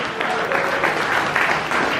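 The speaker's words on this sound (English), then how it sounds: "yes, round of applause." Audience applause at a games-industry keynote in New York, a steady dense wash of many people clapping throughout a brief stretch, moderately loud and even.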